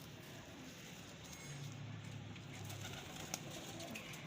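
Sialkoti pigeons coo softly in a low, rolling murmur repeated a few times, faint against steady background hum and without talk.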